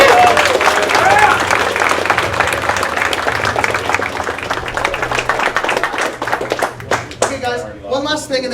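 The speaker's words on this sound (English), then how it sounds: "So you guys all deserve a round of applause." A crowd at a Warmachine tabletop gaming tournament claps loudly and continuously for several seconds, the applause thinning out near the end as a voice begins to speak.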